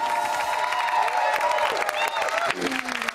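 Studio audience clapping on the celebrity chat show Celebrity Big Brother's Bit On The Side, a steady dense wash of applause with some cheering and music underneath, held loud throughout.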